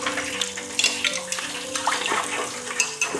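Water runs from a tap as hands are rinsed during chicken nugget preparation in a kitchen, with splashing and gurgling close by and brief handling clatter.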